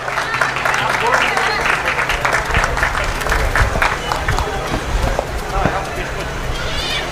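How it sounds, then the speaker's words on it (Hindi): Loud, sustained applause from an outdoor crowd at a flag-hoisting ceremony on a golf ground, steady clapping filling the whole stretch with a busy murmur underneath. "जोरदार तालियों से आप इनका सम्मान करें।"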